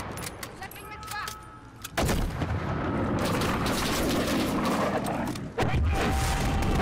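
Explosions and gunfire in the video game Call of Duty Modern Warfare, sharp shots and a heavy boom that opens into a long loud roaring blast lasting several seconds, followed by another hit.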